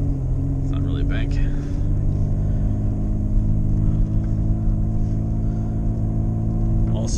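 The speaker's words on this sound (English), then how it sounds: "Let's go straight through this little snowbank here." An older car drives through a small snowbank in Buffalo, NY, its engine rumbling steadily from inside the cabin with a faint crunch near the start, while people talk throughout.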